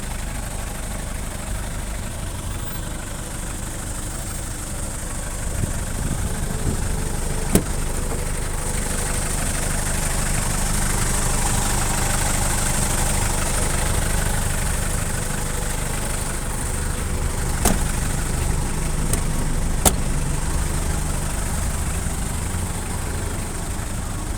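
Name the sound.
van engine idling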